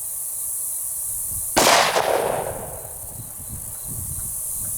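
One handgun shot fired outdoors during a chronograph velocity test with 9mm, .357 Sig, 10mm or 5.7x28mm ammunition: a single sharp, loud crack that rings out and decays over about a second, against a steady background of insect chirping.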